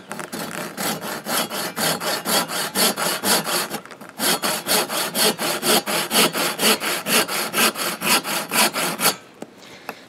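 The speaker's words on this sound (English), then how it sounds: "I'm going to just take my little handsaw here, and I'm going to cut this candlestick off right there in this first little nook" A small handsaw cuts through a wooden candlestick in steady, rhythmic back-and-forth strokes, close and loud, with a short pause near four seconds before sawing resumes and stops near the end.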